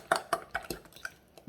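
Melted butter being mashed into mashed bananas in a bowl, a quick series of about six soft, close clinks and scrapes of a utensil against the bowl, quiet and irregular.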